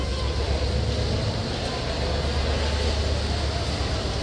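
Busy platform ambience at Kamalapur railway station, a constant dense rumble of distant machinery and crowd murmur with faint voices mixed in.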